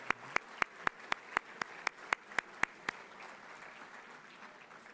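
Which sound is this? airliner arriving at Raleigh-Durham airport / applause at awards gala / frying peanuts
applause at awards gala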